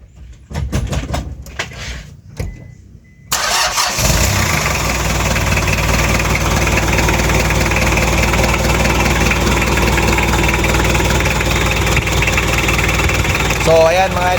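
A Hyundai Starex with a D4BB diesel engine, just semi-overhauled, cranks and catches, then settles into a loud, steady rattling idle. Voices talk during the first few seconds, before the start.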